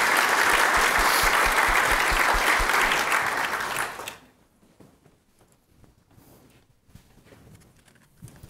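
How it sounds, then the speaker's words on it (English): Audience applause for a conference panel at an economic and policy outlook event, loud and sustained clapping that fills the first four seconds and then cuts off, leaving a quiet room with faint stray sounds. "If we give them a round of applause,"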